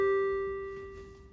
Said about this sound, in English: I think I'll go with three-tone chime